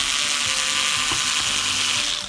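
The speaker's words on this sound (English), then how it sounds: "Let me take out this screw, see what that does." Tiny screw being backed out of a Drobo B810n NAS enclosure during a teardown, a steady close mechanical ratcheting whir lasting about two seconds with no talk.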